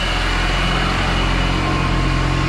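A moped engine idles steadily as it warms up after pump work, a continuous loud low drone with no change in rhythm, alone without voices.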